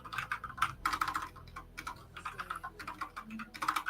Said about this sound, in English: What's wrong with my typing?